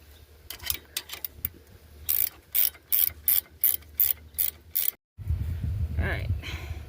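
A hand ratchet tightens bolts on the CV axle of a Baja Bug, with a quick run of clicks followed by rhythmic bursts of ratcheting, then a louder rustling, clattering stretch near the end.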